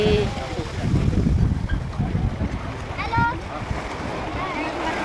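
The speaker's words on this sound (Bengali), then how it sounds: "ওয়াও ঢেউ দিচ্ছে।" Sea waves wash in at Daman fort beach, a steady surf hiss with gusting wind on the microphone, while a person talks over the shoreline noise throughout.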